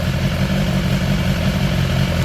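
A 2018 BMW S1000XR motorcycle engine idles close by with wavering RPM, a steady loud throb that rises and falls slightly in rhythm, with no voices over it.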